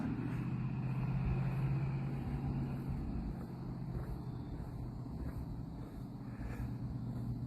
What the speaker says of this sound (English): We have a few vehicles that are coming back and forth.